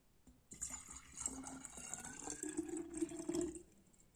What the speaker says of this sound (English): let me see what will happen if I pour this water from this bigger glass